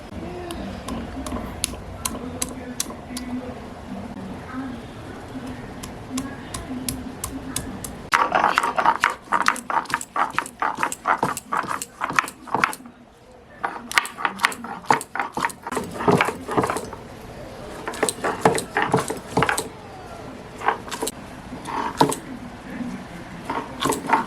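Ginger and garlic are ground into paste for a loitta fish and eggplant curry, with rhythmic scraping and knocking strokes that come fast and close, preceded by quieter kitchen noise.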